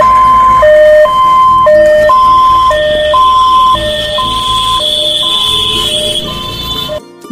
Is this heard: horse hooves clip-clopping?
no